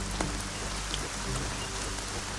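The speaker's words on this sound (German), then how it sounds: "Scheiß Regen!" Steady rain patters across the whole stretch in the game Arcania Gothic 4, a dense, even hiss of drops striking surfaces with no pauses and no voices.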